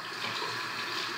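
Tap water running steadily while a makeup brush is rinsed, a soft even gush with no break, heard alone and fairly quiet.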